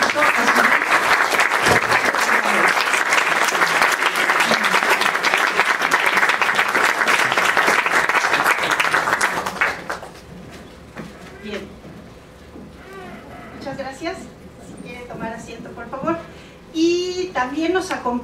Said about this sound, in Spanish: Un aplauso por favor a nuestra invitada